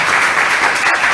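Loud, dense applause from a large church congregation fills the short stretch, steady and close.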